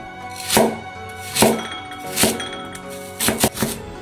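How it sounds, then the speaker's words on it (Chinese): A knife dices onion on a cutting board in five distinct chops, evenly spaced at first and then a quick pair at the end, each a close, sharp thunk against the board with a faint background hum and no talking. "把它切成小丁"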